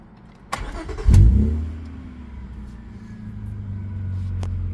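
A V6 Honda Prelude engine, due for a new clutch and headers, cranks and catches with a loud burst, then settles into a steady, close idle that swells slightly, with no speech.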